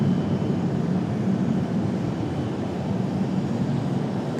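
A PSA Airlines jet at Raleigh-Durham airport departing and lining up on runway 5 left, heard as a steady, moderately loud broadband engine rumble from a distance with no talking.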